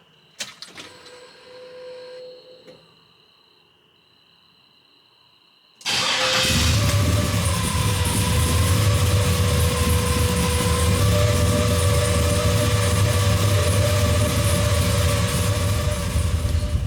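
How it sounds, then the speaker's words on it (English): A 1973 Chevrolet Nova LS with Terminator X fuel injection, quiet clicks and a brief whirr before the engine cold starts abruptly about six seconds in, then settles into a loud, steady, close idle with no talking. "let's get this thing fired up, man. Let's get this cold start."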